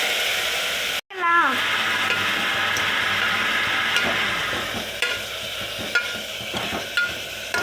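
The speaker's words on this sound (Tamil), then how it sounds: "கடுகு இது அளவுக்கு பொரிஞ்ச உடனே கருவேப்பிலை போட்டுக்கலாம்." Mustard seeds and curry leaves fry in hot oil, a loud close sizzle bursting in suddenly and then crackling and popping steadily, with occasional stirring clinks and no talk.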